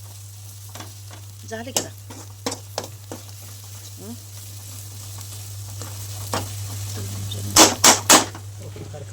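Masala roasting in a pan, a soft continuous sizzle with scraping stir strokes and sharp utensil clacks against the pan, a brief spoken remark over it.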